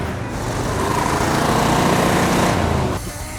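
A 1973 Chevy square body truck that had sat unrun for years idles close up, a steady loud rumble that cuts off abruptly near the end.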